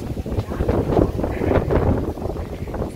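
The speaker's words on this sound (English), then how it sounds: "very windy." Steady wind buffeting the microphone at a beach in Gran Canaria, a continuous low rumbling roar with gusty swells throughout.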